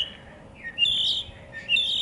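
A small bird chirps nearby in two short bursts of high, bright tweets separated by a brief pause, fairly faint and alone.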